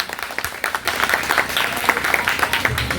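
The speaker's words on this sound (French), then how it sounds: "Avec vous, Sabrina Lucia Alcin, sous vos applaudissements s'il vous plaît." At a graduation ceremony, an audience applauds a graduate with a steady crowd clapping that begins somewhat scattered and quickly fills into dense, continuous applause.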